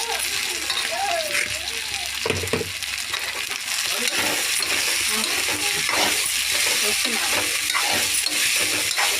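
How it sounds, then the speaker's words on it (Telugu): Rice for paneer rice tossed into a hot pan and stirred, giving a steady sizzle with scraping and clinking of the spoon against the pan throughout. "ఇప్పుడు రైస్ వేసుకొని"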